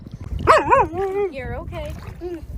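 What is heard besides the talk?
dogs barking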